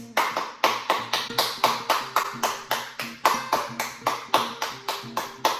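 Hands clap in a steady, brisk rhythm to imitate heavy rain, about three claps a second, fairly close and even in loudness over soft background music.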